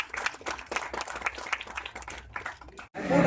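A crowd at a product launch event claps steadily in a dense, moderately loud round of applause, briefly dipping before swelling again at the end.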